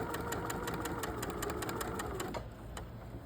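A sewing machine stitches a quilt seam at a short 1.8 stitch length, its rapid, steady needle rhythm running loud and close for over two seconds before slowing and easing off near the end.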